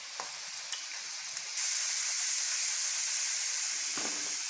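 Potato smiley snacks frying in hot oil, a steady close bubbling sizzle that continues throughout, with a few faint clinks of a spoon turning them and no talking.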